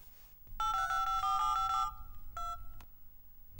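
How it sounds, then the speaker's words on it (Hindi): A phone call being placed sounds a bright electronic ringtone, a sustained close melodic burst followed by a shorter second ring, clear and without talking. "तू मेरे फोन से उसे फोन कर और मैं तेरे फोन से उसे फोन करता हूँ"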